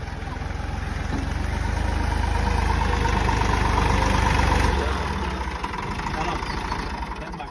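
A tractor engine idles with a steady low rumble, easing down slightly toward the end, with faint voices in the background.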